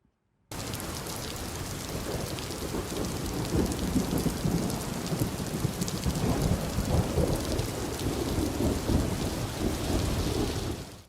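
Heavy rain pours steadily during a monsoon downpour in Rajkot, Gujarat, with thunder rumbling low beneath it. The roar starts abruptly and stays loud and dense throughout, with no voices.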